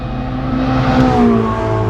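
A Ferrari 488 GTB engine pulls hard through the gears as heard from inside the car, a loud, continuous droning roar with strong harmonic tones that shift slightly in pitch over two seconds.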